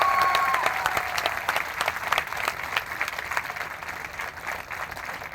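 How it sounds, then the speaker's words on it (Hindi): An audience at a political rally applauds continuously, a dense crackle of many hands at moderate loudness that slowly thins toward the end, with a brief tone at the very start. "एक बार जोरदार तालियां बजा दो मंच के 10 अंशकारियों को"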